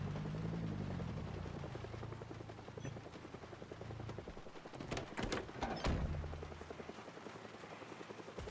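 Helicopter in the video game Project Zomboid thrumming with a steady rhythmic rotor chop that rises and falls in level, broken by a few sharp thuds partway through, with no one talking.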